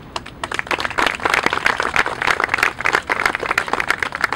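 Audience clapping at a hospital health system's Unsung Hero award ceremony, a steady indoor patter of many hands held for a few seconds at moderate loudness.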